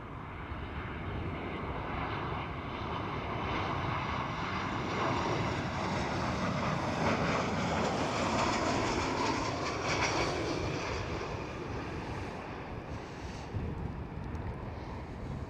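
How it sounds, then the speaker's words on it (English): A Transavia Boeing 737 arriving at Amsterdam Schiphol, its jet engines a loud, steady broadband roar that swells slightly mid-pass and holds throughout, with no voices. "737 of Transavia"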